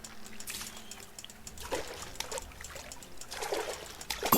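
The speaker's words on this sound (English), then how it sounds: "je dois crever les bulles pour faire sortir les canards" In the video game What Remains of Edith Finch, bubbles are popped to release ducks in water, heard as soft trickling and splashing with a few small pops, moderately near and fairly quiet.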